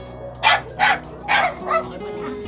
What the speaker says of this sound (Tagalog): Ay, kadaming aso. Aso niya yan lahat.